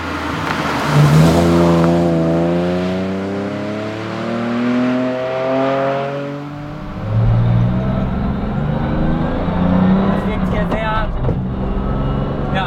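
A BMW Z4 Coupe track car lapping the Nürburgring Nordschleife, its engine loud and close from onboard, pitch climbing steadily through the gears with brief dips at each shift before pulling hard again.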